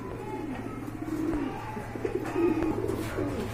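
A pair of Spanish pouter pigeons coo in low, throaty rolling phrases, close and steady, several coos overlapping over a quiet background hum.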